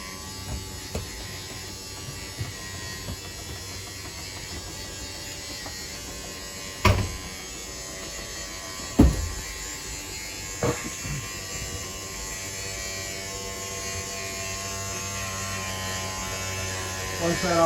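A slide-out motor on a 2016 Keystone Outback 312BHC camper extends the main slide with a steady electric buzzing hum, broken by a few clunks, while a person speaks over it.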